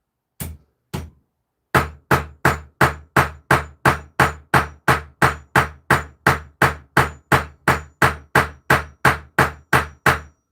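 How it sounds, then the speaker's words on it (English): A hammer peens metal pins through knife handle scales: two taps, a short pause, then a long even run of about twenty sharp, ringing strikes, close and loud, with no voices. "So you want to just peen a few times on each side."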